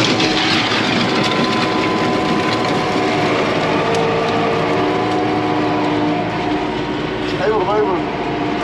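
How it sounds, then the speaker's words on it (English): A farm tractor fitted with a box blade on the back and a front bucket runs with a loud, steady engine drone close by, and a voice speaks briefly near the end. "But we'll go get the tractor."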